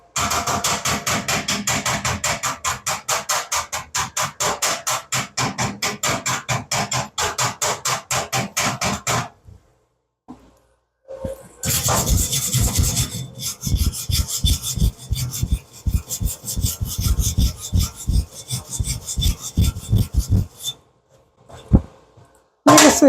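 A Yeswelder ARC205DS arc welder running on 220 volts gives a loud, steady crackling sizzle in two long runs split by a brief quiet pause, with no talking.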